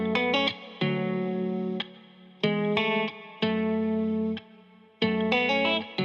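Main intro guitar for a dark ambient pop song, loud and heavily effected with distortion, chorus and echo, playing sustained chords in repeated bursts that stop and restart with sharp attacks.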